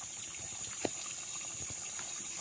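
A natural spring runs beside a river on a farm lot, giving a faint, continuous trickling and gushing of water with one brief splash, heard alone without voices.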